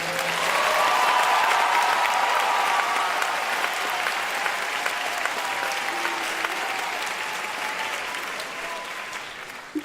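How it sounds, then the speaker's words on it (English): A room full of people applauds outstanding student journalists, a sustained, even wash of clapping that stays full for several seconds and slowly tapers off toward the end, with no talk over it. "a special round of applause for outstanding student journalists"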